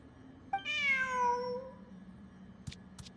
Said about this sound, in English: Who's a good kitty?